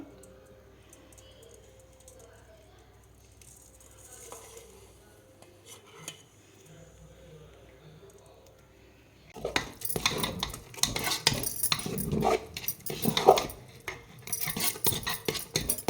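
A metal spoon scrapes and clinks against a pot while jaggery syrup is stirred into sweet pongal, a busy clatter that starts after a quiet stretch of faint kitchen noise.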